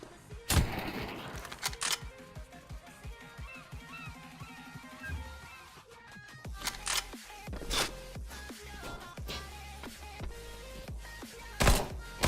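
Gunshots in the CS:GO Danger Zone video game come as a handful of sharp, loud cracks spread through a busy mix of game noise and music, with a couple of strong bursts near the end.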